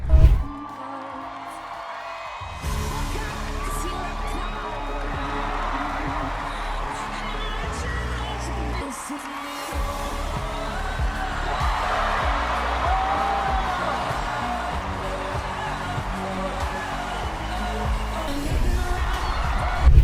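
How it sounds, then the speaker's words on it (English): An audience at a performance cheers and whoops in a steady roar that keeps up throughout, with one short dip in the middle. The crowd is loud and fairly close and sounds like a packed venue. "Wow, the crowd is really feeling it."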